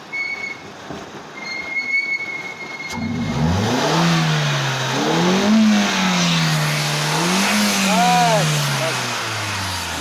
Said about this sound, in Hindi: रेस दो जरा भर भर के।